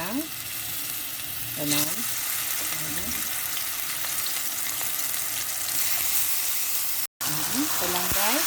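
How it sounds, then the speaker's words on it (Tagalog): Marinated, thinly sliced beef fries in olive oil in a pan, giving a constant close sizzle and hiss with a few stirring clinks. Someone talks over the sizzling now and then. "And ito nga, ipa-fry na natin."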